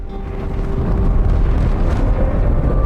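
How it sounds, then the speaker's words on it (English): A deep, swelling explosion rumble from inside the Athens ship in Halo 2, building low and heavy and sustaining loudly with no talking. "That explosion came from inside the Athens, same as the Malta."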